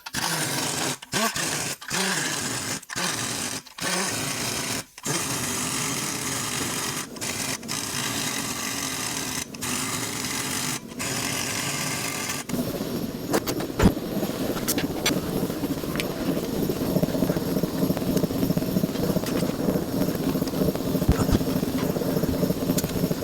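A power tool running down bolts on a 1937 Zephyr engine and transmission, first in loud whirring bursts with short gaps, then a sustained rattling drone up close.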